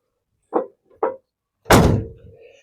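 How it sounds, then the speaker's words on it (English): Doors on a big-block 1971 Cadillac Sedan DeVille, parked since 1986, swing shut: two light thuds in quick succession followed by a heavier, solid slam that rings out briefly, close by with no talking. "Shut the rest of these doors."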